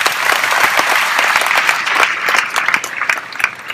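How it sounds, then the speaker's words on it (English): A large audience at a business success forum breaks into loud sustained applause, dense clapping that stays full throughout, with a few louder individual claps toward the end. "I give Nu Skin a round of applause."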